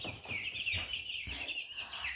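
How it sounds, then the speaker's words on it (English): A rooster being handled gives agitated clucks and squawks, loud and close, in a string of uneven bursts with no talk over them. "so that's probably a rooster"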